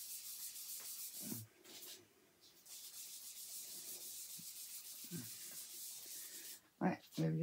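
A pen or marker rubs across a Halloween-themed artist trading card in short scratchy strokes, close up, with pauses and a few louder taps near the end.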